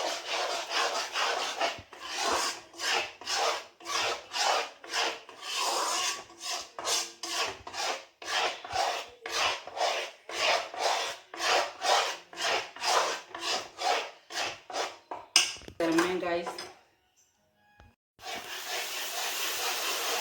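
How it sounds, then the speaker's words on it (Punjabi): Besan for barfi is stirred in a hot kadai, giving a close, rhythmic run of rasping scrapes, many quick strokes in a row, followed by a short pause and a steadier hiss. "ਥੋੜਾ ਜਿਹਾ ਇਹਨੂੰ ਜੀ ਕੜਾਈ 'ਚ ਹਿਲਾਵਾਂਗੇ"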